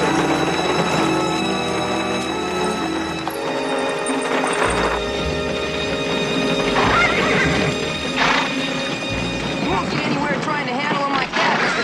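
Horses in an 1870s Western setting neigh and whinny several times over a steady clip-clop of hooves, with loud, close shrill calls breaking out above the hoofbeats.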